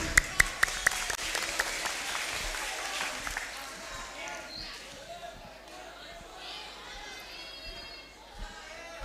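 An audience at a live Maulid Nabi religious gathering claps in a quick burst that fades into crowd murmur and thumps, with a voice talking over it.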